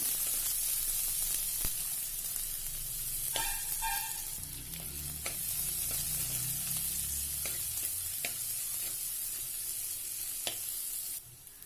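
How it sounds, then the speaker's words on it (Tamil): Chopped onion sautéing in hot oil with green chili and curry leaves for a Tamil potato curry, a steady close sizzle throughout with a few sharp clinks of a spoon stirring the pan, no talking. "அதையும் போட்டுட்டு நல்லா வதக்கி விட்டுக்கலாம்"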